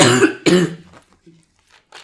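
Two harsh, close coughs in quick succession, followed by a softer throat-clearing grunt and a brief breath.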